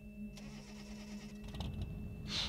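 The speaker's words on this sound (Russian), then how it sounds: "Включи двигатель обратно." A spacecraft engine starts up in the video game Affordable Space Adventures: a steady low mechanical hum shifts into a rougher, louder rumble that builds toward the end.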